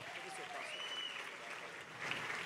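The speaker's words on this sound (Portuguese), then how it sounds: "uma salva de palmas para os nossos astros" Audience applause at a stage hypnosis show in a club, a steady wash of clapping throughout with crowd voices and a whistle mixed in.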